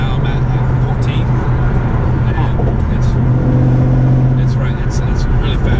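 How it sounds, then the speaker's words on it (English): Supercharged Shelby GT500 engine and exhaust droning loud and steady throughout, with a low sustained tone that swells partway through as the car pulls harder, running continuously beneath conversation. "I love how your exhaust, it's quiet, and then you step on it, and it's like, hey, I'm here."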